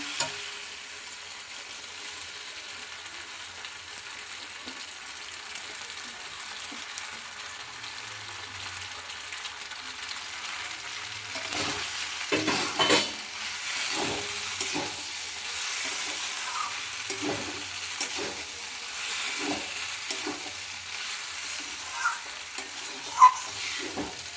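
Vegetables for masala pasta sautéed and stirred in a pan, a quiet steady sizzle with intermittent scraping stir strokes growing busier in the second half, no talk.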